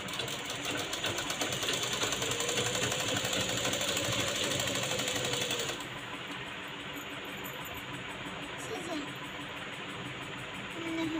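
Sewing machine stitching a one-inch cloth strip for making a drawstring cord, a fast steady mechanical whirring that runs loud for several seconds, then drops to a quieter, slower hum as stitching continues, close by without talk.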